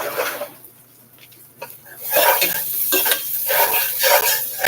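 Onions browning in a pan on a stovetop, stirred with a spoon: a soft scraping opens, then a loud, steady sizzle with repeated stirring scrapes takes over and continues to the end.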